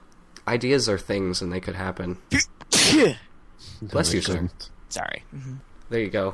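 A single sharp sneeze from a man, loud and close, bursts out between stretches of casual podcast conversation, with talk resuming right after.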